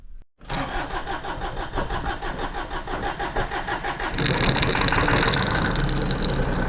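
A 3-cylinder diesel engine cranks with a steady, rapid starter rhythm on a humid day, then catches and settles into a loud, rough, close idle with a knocking clatter.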